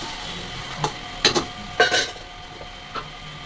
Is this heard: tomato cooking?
yes